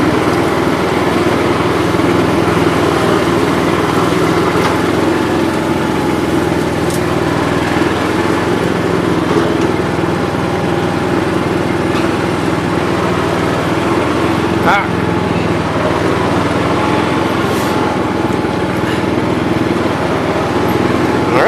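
A Pro 12 power broom engine runs continuously while clearing snow in front of a garage, a loud, steady small-engine drone with a faint fluctuating hum.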